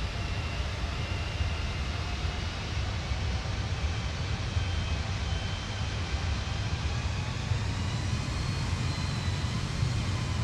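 An airliner on final approach in Microsoft Flight Simulator gives a steady, broadband engine and wind roar that holds constant for the whole stretch, with no talk over it.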